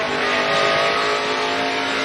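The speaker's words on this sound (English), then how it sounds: "You can hear the rear tires spinning on that 29 truck." The number 29 NASCAR truck series race truck's rear tires spin and squeal under a loud, sustained engine roar at speed on track, dense and continuous throughout.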